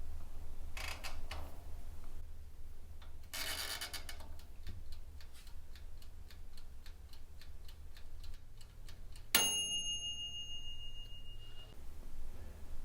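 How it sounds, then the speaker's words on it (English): PowerPac 9L electric oven timer ticking in a steady, even rhythm at close range, ended by a sharp bell ring that lingers and fades. "When the timer is set, it will start ticking"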